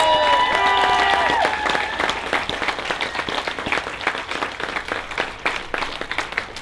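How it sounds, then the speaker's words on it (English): Audience at a political speech against mental health service cuts breaks into sustained applause, many hands clapping steadily with some crowd noise for several seconds. "they deserve a massive round of applause"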